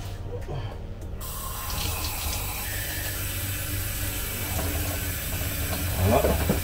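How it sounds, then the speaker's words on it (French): A kitchen tap runs in a steady, close hiss and splash as cured gravlax salmon is rinsed under the water, the flow starting abruptly and continuing with small splashy changes. "Donc on vient rincer ça."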